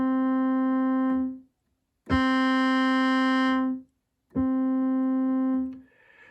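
Three sustained notes from a sawtooth patch on an ASM Hydrasynth synthesizer, played alone with bright, buzzy harmonics. Each note swells in, holds for over a second and cuts off, with brief silent gaps between them.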